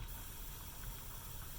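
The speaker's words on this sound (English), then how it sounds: "We are releasing steam off of here, which is good, off of the release valve." Steam from a boiler's pressure release valve hisses in a steady, broad rush with a low mechanical rumble beneath it, continuous and fairly faint throughout.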